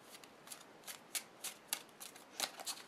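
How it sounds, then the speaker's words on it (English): Playing cards are riffled and shuffled in a series of quick crisp bursts, close up and quiet, with short pauses between each riffle. "give this pile here a few cuts, and shuffle it up"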